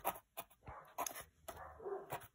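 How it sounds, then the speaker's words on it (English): A dog indoors lets out several faint, separate barks and yips in an irregular pattern, some sharp and some whimpering, heard alone. "Don't mind the dog."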